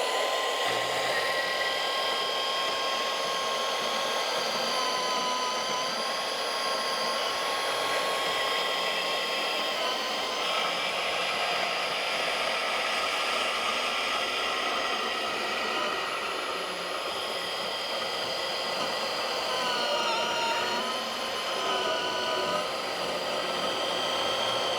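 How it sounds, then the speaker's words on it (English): A Milwaukee cordless deep cut band saw runs through a cut, giving a continuous high whining buzz with a steady motor tone and slight wavering in pitch, close and unbroken with no talking. "Now let's go ahead, use the bandsaw, and let's see how that does in comparison."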